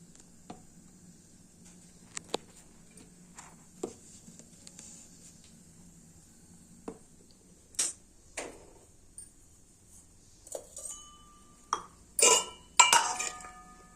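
A metal lid on an oil lamp clinks as someone tries to open it, with scattered small taps and sharper metallic clinks growing busier near the end, close up and mostly alone over faint background hum.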